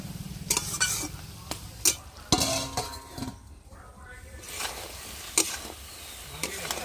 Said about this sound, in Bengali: আমি পরিমাণ মতো মশলা দিয়ে ভালো করে কষিয়ে নিই আস্তে আস্তে করে জাল দেব